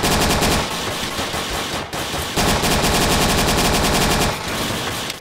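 Rapid automatic gunfire in the World War II dinosaur shooter Dino D-Day during team deathmatch, dense loud bursts with a brief pause partway through, no talking.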